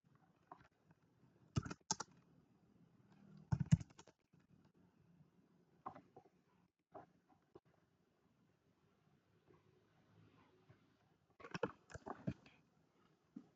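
Typing on a computer keyboard in quiet bursts of clicky keystrokes separated by pauses, soft and close with almost no background noise.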